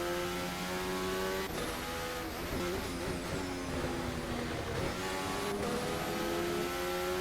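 Racing video game race car at the Australian Grand Prix, a loud sustained engine whine with rising and falling pitch as it accelerates and shifts, continuous and close throughout.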